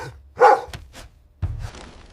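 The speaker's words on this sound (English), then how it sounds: "A hunting dog, unaffected by his herbs, suddenly barked." A hunting dog gives a loud bark, then a few shorter, softer yelps and a last rough bark, heard nearby and alone with no talking.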